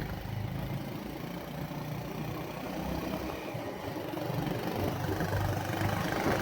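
A motorcycle engine runs steadily while riding outdoors, giving a continuous low rumble with wind noise that swells slightly toward the end, close and with no talk.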